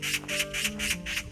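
A magpie near a temple site on a mountain path gives a run of five harsh, evenly spaced chattering squawks, fairly close and alone without talk.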